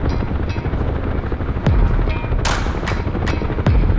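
A UH-1H Huey helicopter sets down in a parking lot amid heavy artillery in the combat game DCS World: loud, close, continuous rotor thump and turbine roar, punctuated by several sharp distant booms and whooshing impacts.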